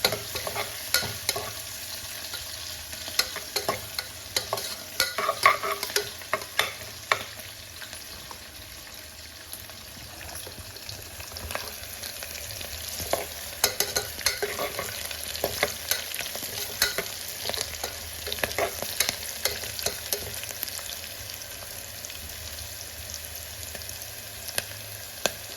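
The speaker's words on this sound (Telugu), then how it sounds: "ఉల్లిపాయలు బ్రౌన్ కలర్లో ఫ్రై అయిన తర్వాత పచ్చిమిరపకాయలను కూడా యాడ్ చేసుకోవాలి. బాగా ఫ్రై అయ్యేంత వరకు ఫ్రై చేసుకోవాలి." Onions and green chillies frying in a pan for palav, a continuous close sizzle broken by frequent irregular scraping clicks as a spoon stirs, with no talking.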